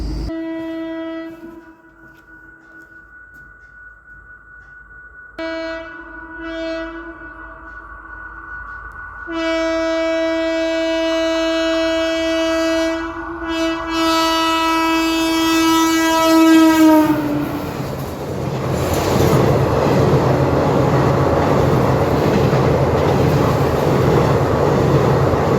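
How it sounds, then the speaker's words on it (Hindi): Train arriving at a railway level crossing with the gate locked, its loud horn sounding in long harmonic blasts that grow steadily louder, then giving way to the roar and rumble of the train passing close by. "अब ट्रेन आएगी आपकी"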